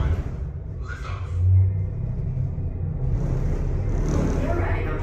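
A deep, steady low rumble rises as a space elevator ride vehicle lifts off at a Disney attraction. The rumble is sustained and fairly loud, and a faint voice is heard over it.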